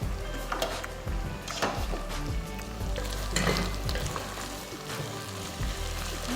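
Beef stir fry sizzling steadily in a pan, with repeated scrapes and knocks of a utensil stirring through it, close and continuous with no voices.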